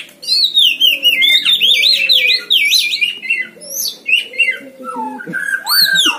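Kacer poci and murai batu songbirds sing together in a close, loud, continuous exchange of bright whistled phrases and rapid chirps, with no talking.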